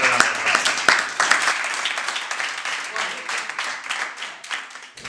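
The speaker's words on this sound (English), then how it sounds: "Let's give each other a round of applause." Audience applause after a spoken word poetry performance, a dense wash of many hands clapping steadily for about five seconds with no talking over it, tapering slightly toward the end.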